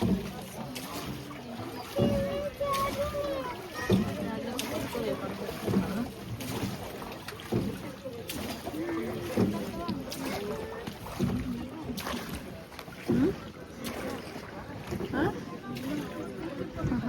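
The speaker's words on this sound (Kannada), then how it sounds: "ಬೋಟ್ ಬರ್ತಾ ಇದೆ." A boat approaches on the Kaveri River at Ranganathittu bird sanctuary, its motor and water noise running steadily under wind and chattering birds, with people talking nearby.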